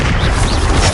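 A loud, booming blast from the Confringo spell in the Hogwarts Legacy video game fills the short moment, a dense, rumbling explosion with a broad roaring body and no speech.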